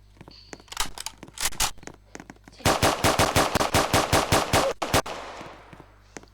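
Rapid automatic gunfire in the Roblox video game, a few short bursts followed by a long sustained volley of sharp shots, loud and close, then fading.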